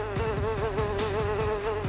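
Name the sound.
houseflies buzzing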